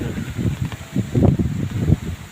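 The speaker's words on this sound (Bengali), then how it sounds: "এখন জায়গা অনেক বৃষ্টি পড়ছে, পাশাপাশি অনেক বেশি জোর হাওয়া হচ্ছে।" Strong, gusty wind sweeps through heavy rain outside a house, with close, buffeting rushes that surge and fade in uneven waves, with no voices.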